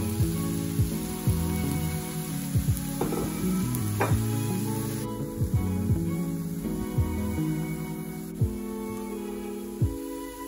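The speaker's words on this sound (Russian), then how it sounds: "Затем добавляем шампиньоны." Champignon mushrooms frying in a pan, sizzling steadily up close, with scattered knocks and clatters from stirring.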